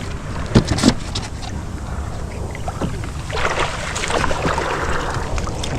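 A small wooden bangka boat moving on choppy water, with splashes and knocks against the hull over a steady wash of water and wind noise, close and moderately loud.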